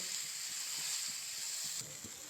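A paste of peas, ginger and green chilli frying in a pan makes a steady, moderate sizzle, with soft stirring scrapes underneath.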